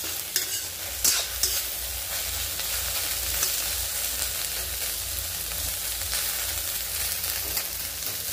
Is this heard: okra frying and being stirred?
yes